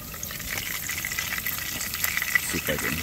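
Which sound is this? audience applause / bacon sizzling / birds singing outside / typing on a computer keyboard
bacon sizzling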